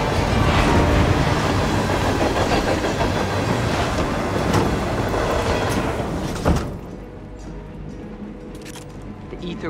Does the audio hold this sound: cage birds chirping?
no